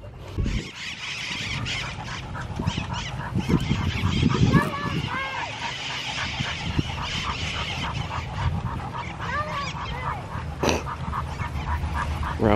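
Geese or similar fowl honk repeatedly and fairly loudly across the whole stretch, with overlapping calls forming a steady, busy chorus.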